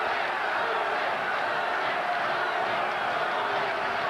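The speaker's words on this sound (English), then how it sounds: "The crowd is chanting Rahman, Rahman." A large boxing arena crowd keeps up a dense, continuous roar of chanting for a fighter named Rahman, steady and loud throughout with no clear break.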